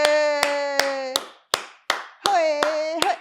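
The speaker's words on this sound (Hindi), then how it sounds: "मैं आपके लिए क्यों ताली बजा रहा हूँ?" Sharp hand claps ring out at a steady beat, about nine in all, over a sustained sung or hummed tone, with a short run of claps alone in the middle.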